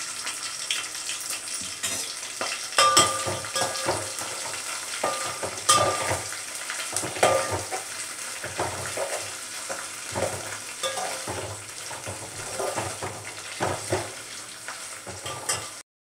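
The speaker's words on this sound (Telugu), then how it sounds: "చూడండి, నూనె కాగింది. దాంట్లోకి మనం కడిగి పెట్టుకున్న చేపల్ని" Washed fish dropped into hot oil, a continuous loud sizzle and crackle of frying with occasional stirring scrapes and bubbling bursts, steady throughout with no talk.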